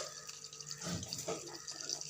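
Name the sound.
oil heating in a pan for frying anchovies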